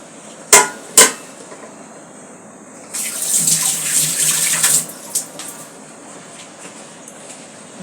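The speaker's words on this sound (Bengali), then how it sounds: "পানিটা ফুটানো দিয়েছি" Two sharp metallic clanks ring out, then boiled water pours into a khichuri pot in a steady splashing stream for about two seconds before stopping, with a few small knocks after.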